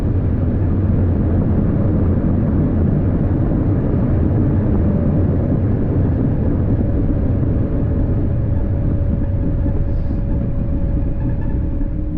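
Inside an airplane cabin during landing, a loud, steady low rumble of engine and airflow noise fills the whole stretch without letting up.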